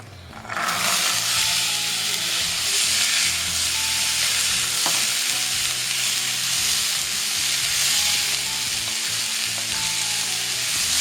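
Dried chilies, mustard seeds and curry leaves fry in hot oil for a tempering, starting with a sudden loud sizzle that holds as a continuous crackling hiss with faint pops and stirring.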